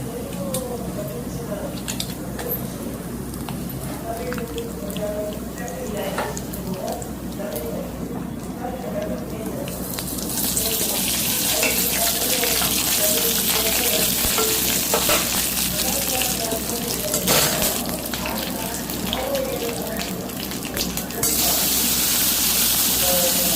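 Potato and brinjal mixture hits hot oil tempering in a pan and is stirred, with a steady sizzle that grows much louder and brighter partway through, plus scraping stir sounds throughout.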